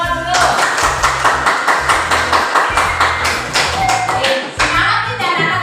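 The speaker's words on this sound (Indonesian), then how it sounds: "tepuk tangan buat kita semua dulu" A classroom of Indonesian schoolchildren claps together in quick, loud, rhythmic bursts, with the patterned clapping repeating steadily across several seconds.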